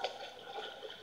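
Water in the video game Infra gives a soft, steady trickling and gurgling, faint and brief, with no speech over it.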